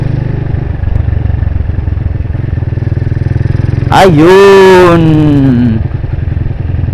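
A motorcycle engine runs nearby with a steady putter while someone speaks briefly; a sharp rising then falling whine cuts through midway.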